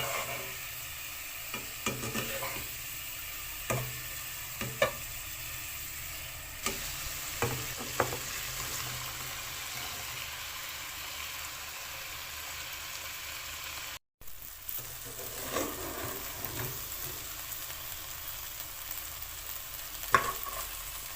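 Lunch cooking in a pan gives a steady close sizzle with occasional stirring clinks and scrapes, continuing for a long stretch with a brief dropout midway and no talking.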